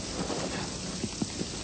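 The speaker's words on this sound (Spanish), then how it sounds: "Vayámonos antes de que se nos lleve el aguacero." Heavy rain pours down on a house during a storm in a film, a steady loud hiss with a few soft thumps of drops and no voices.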